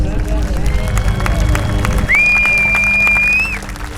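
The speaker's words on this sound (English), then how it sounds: "please join me in giving the living historians who are in the field another round of applause" An outdoor crowd at a WW2 armor living-history event applauds the reenactors in the field, a dense burst of clapping that fades after a couple of seconds, followed by a sustained high whistle-like tone.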